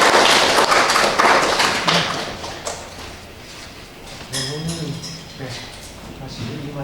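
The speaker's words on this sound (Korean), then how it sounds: "박수로 우리 축복하겠습니다." A church congregation at a Sunday service in Mexico claps together for a few seconds, then the clapping fades as a voice begins speaking over a quieter room.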